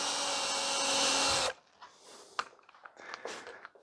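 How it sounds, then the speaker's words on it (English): A power drill whines steadily while boring a hole through the middle of a wooden stick, then stops abruptly, followed by faint scattered handling and shuffling noises nearby. "I drill a hole in the middle"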